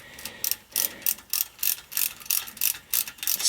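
Snap-on tap threading a hole in a steel fender extension for a Farmall 560 tractor, giving a close, crisp series of repeated ratcheting clicks in a quick regular rhythm with no talk.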